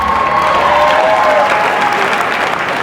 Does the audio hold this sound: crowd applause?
yes